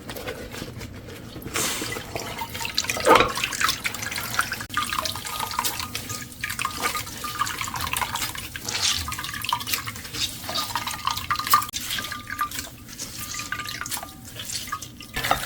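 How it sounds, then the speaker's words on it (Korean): Juice squeezed from blended pear and ginger through a cloth bag runs and drips steadily into a bowl, a soft continuous trickle with occasional splashes, fairly close and quiet, with no talking. "배주머니에 넣어서 물만 꼭 짜요."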